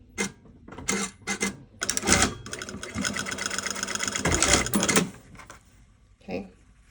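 A sewing machine stitches a facing down on a garment with an invisible zipper, giving a few short whirring starts and then a sustained mechanical chatter of several seconds, close by and without talk.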